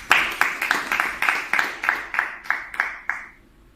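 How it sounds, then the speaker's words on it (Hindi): An audience claps in unison at a spiritual discourse, about a dozen sharp, evenly spaced claps that slow slightly and fade toward the end. "ताली।"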